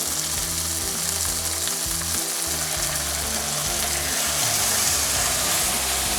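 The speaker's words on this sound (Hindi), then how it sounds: "चिकन फ्राई हो गई है" Chicken frying in a pan with ketchup gives a loud, constant sizzle with bubbling crackle, close and continuous throughout.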